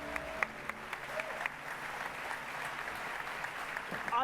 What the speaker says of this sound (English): I think you can give yourselves a round of applause.